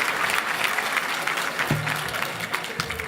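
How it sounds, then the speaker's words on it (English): An evening awards event audience claps steadily for several seconds, a dense, even wash of applause from a large crowd heard at moderate distance, with a brief low tone partway through. "How about a round of applause for yourselves?"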